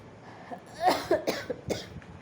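A person coughs in a quick run of four or five harsh, close bursts, with a throat-clearing quality and quiet pauses between them.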